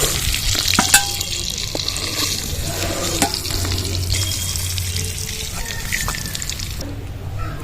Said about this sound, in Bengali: এবার ডিমগুলো ছেড়ে দেবো তেলে